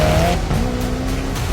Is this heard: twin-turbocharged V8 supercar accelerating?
yes